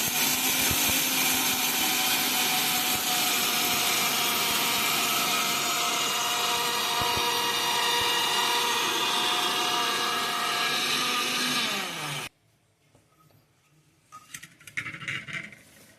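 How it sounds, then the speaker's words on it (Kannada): Electric mixer grinder blending ingredients for a quick milk-based sweet, a loud continuous high-speed motor whine lasting about twelve seconds before cutting off abruptly, followed by quieter rattling and handling sounds. "ಮಿಕ್ಸಿಗೆ ಹಾಕೊಂತ ಇದ್ದೀನಿ"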